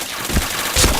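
Rapid bursts of gunfire from the first-person shooter Point Blank, loud and close, with two sharper volleys standing out against a dense, noisy background.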